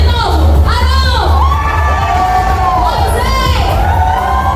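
A crowd of children cheers and shouts loudly for Aaron in a Sunday school class on the life of Moses, with rising, siren-like group yells filling the whole stretch.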